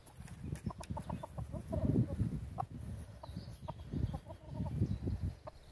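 Soft, low clucking from a black silkie chicken hen repeats in short bursts, close by, with a few higher chirpy notes and a faint background hiss.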